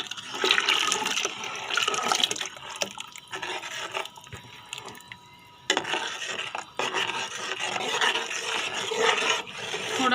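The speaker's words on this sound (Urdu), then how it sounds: "تھوڑا اس میں پانی اور شامل کر دیں۔" Water is poured into a kadhi pakora mixture, giving a steady splashing, trickling pour with dripping. It runs loud and close for about ten seconds, with one short lull near the middle and no talk.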